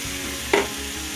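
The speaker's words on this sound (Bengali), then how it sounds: "পাঁচ মিনিট ধরে আমি একটু তরকারিটাকে কষিয়ে নিয়েছি। তরকারি থেকে মশলাগুলো থেকে তেল ছাড়ছে" Jackfruit and prawn curry sautéing in oil in a pan: a steady low sizzle with one brief stir or scrape in the middle, close and fairly quiet.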